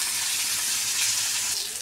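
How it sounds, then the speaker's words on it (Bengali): Onion and garlic frying in mustard oil, a steady close sizzle with faint stirring, continuous and even for a couple of seconds with no voices. "দেখো লাল লাল করে পেঁয়াজটা ভেজে নিচ্ছি, আর রসুনটাও তার সাথে ভাজা হয়ে যাচ্ছে।"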